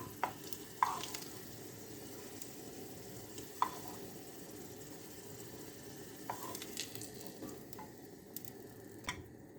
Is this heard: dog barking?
no